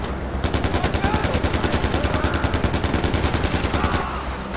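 Rapid automatic gunfire in the video game Far Cry 4, a loud sustained burst of evenly spaced shots lasting several seconds at close range, with no talk over it.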